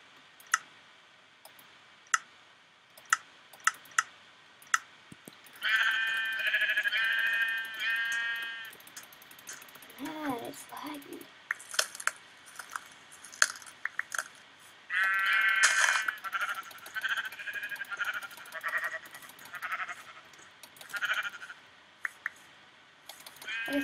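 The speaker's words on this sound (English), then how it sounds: "we are going to kill the sheep" Sheep bleating in a modded survival video game, several drawn-out bleats heard twice amid scattered sharp game clicks and hit sounds.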